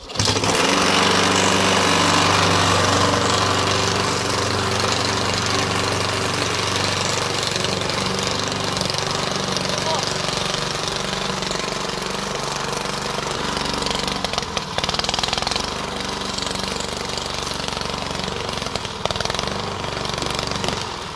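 A Honda OHV 150 cc lawn mower engine starts and roars loudly, running steadily throughout with a rough mechanical rattle and no pauses, close by.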